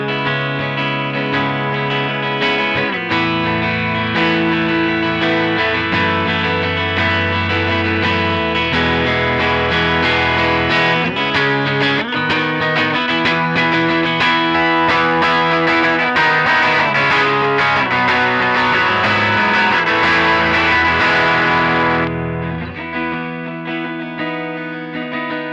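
Electric guitar through stacked overdrives in a Line 6 HX Stomp strums thick, crunchy chords, loud and saturated with chorus shimmer, then the playing drops to a softer, cleaner strum near the end.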